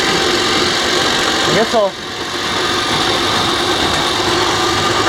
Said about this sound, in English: I might be overheating the motor.